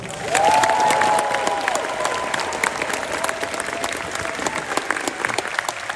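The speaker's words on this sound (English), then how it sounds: "please give another round of applause" A large convention crowd at closing ceremonies bursts into loud applause with a few cheers and whistles, the clapping staying dense and steady before thinning slightly toward the end.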